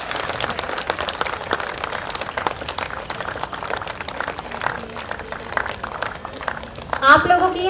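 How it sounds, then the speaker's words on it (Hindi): A college science and culture festival audience claps continuously at a moderate, fairly distant level, with a steady patter of many hands. Voices are mixed in, and a brief louder burst comes near the end. "तालियां तो बजती रहनी चाहिए।"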